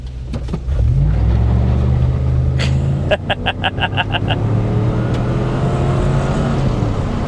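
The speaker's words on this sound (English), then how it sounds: "We'll go ahead and do a little burnout real quick, because it doesn't appear this has traction control." A V8 Ford Taurus SHO without traction control doing a burnout, the engine roaring and revving hard with a rising then falling drone, a brief rapid chirping burst midway, with a voice speaking over it.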